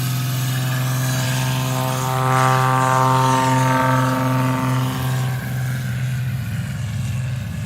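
A Cessna 185 taildragger runs its propeller engine at full power on a takeoff run at a STOL competition. The droning roar sits close and loud, swells in the middle as the plane passes, then eases slightly.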